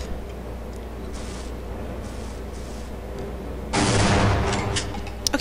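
Gunfire in the video game Half-Life: a dull, continuous rumble of distant shots, then a louder, broader burst of firing near the end, with no talking.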